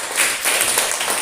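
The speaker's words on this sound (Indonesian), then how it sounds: "Tepuk tangan dulu buat kelompok." A classroom of pupils claps briefly for a group that has just presented, a short burst of dense, fairly loud applause.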